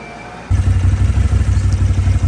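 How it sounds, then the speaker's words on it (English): Farm tractor starting to drive out, its engine kicking in abruptly with a loud, rumbling, clattering drone that continues steadily up close, no voices. "Dad is driving the tractor out so we can get that pivot unstuck."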